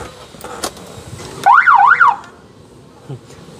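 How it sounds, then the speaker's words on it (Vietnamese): A Mitsubishi Jolie's siren at a car garage gives one short, loud warbling whoop, with a few sharp clicks before and after in a quiet setting. "Xe có còi hú luôn anh chị."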